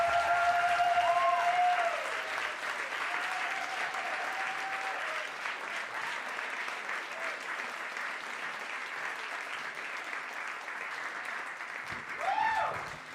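Audience at an evening live storytelling show applauds steadily for the speakers, a dense wash of clapping that holds for the whole stretch, with a faint voice over it near the start and a brief swell of louder clapping near the end.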